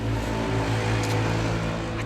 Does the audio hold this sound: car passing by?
yes